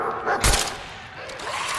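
A companion dog in Fallout 4 barks a couple of sharp, loud times against a quieter game background, with a second, softer bark following after a short gap.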